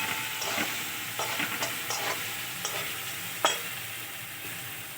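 Potatoes frying in oil in a pan give a steady sizzling hiss, broken by a few scraping stirs and one sharp clatter near the end, with no voices.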